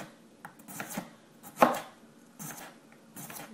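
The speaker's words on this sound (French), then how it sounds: "On coupe le concombre en fines lamelles" Knife chopping cucumber into thin slices on a board for a cucumber tart, a run of crisp close cuts in uneven bursts with one sharper, louder chop near the middle.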